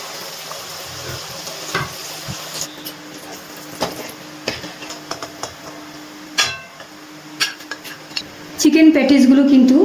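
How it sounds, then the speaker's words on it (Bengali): Chicken patties frying in a pan on a gas stove, with a soft sizzle beneath repeated clinks and scrapes of utensils against the pan, and a louder burst of frying and clatter near the end. "এবারে বাকি যে কটা আছে আমি একবারে ভেজে নিচ্ছি।"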